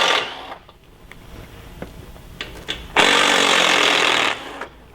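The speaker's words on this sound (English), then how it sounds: "I'm using a T25 to remove these screws." A power driver with a T25 bit backs screws out of a factory seat and shoulder bar on a Can-Am two-seat side-by-side. It whirs loudly and steadily for about a second and a half after quieter handling noises, then stops.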